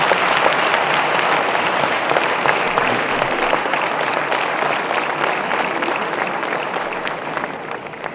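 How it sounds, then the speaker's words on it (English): An audience gives General Anil Chauhan a loud, dense round of applause that holds steady for several seconds and then tapers slightly. "Huge round of applause for General Chauhan, sir."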